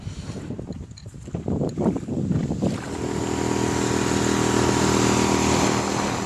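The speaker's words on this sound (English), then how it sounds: "This Suzuki 5 horsepower is the lightest 5 horsepower currently on the market" Small boat powered by a Suzuki 5 horsepower outboard motor, with wind buffeting at first, then the motor settling into a steady, loud drone close by.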